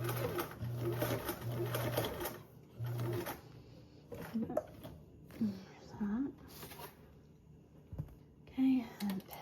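A sewing machine stitches fabric binding on a duffle bag, its motor running in short repeated bursts of a few seconds each, close and fairly loud, with soft speech in between.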